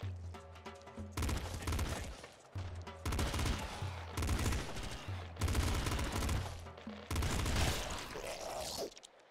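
Shotgun and explosive blasts in Nuclear Throne, repeated loud, punchy bursts of gunfire with booming impacts in rapid succession over game music, nearly continuous.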